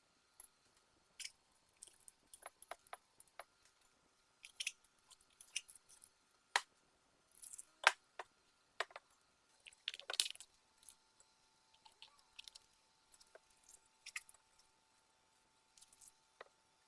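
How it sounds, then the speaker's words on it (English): Masking tape being peeled from freshly painted BMW M40 engine parts, sparse crisp tearing and crackling bursts, close and quiet, separated by silent gaps. "Once the paint was dry, I could then very satisfyingly remove the masking tape"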